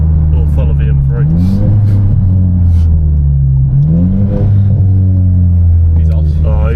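A debadged BMW M3 in Ruby Stone Red pulls away hard, its engine loud and close, climbing in pitch through two gear changes with a deep rumble, while people talk over it.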